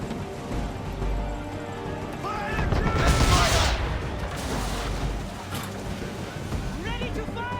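Ship cannons firing a broadside in Assassin's Creed III, a burst of heavy booms and crashes over wind and water, with voices shouting around them.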